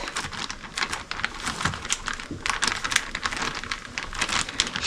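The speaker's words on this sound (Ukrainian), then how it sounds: "Закриваю зіп пакет." A zip-lock plastic food bag being pressed shut at home, giving a steady run of close, crisp crinkling and rustling plastic sounds with small clicks throughout.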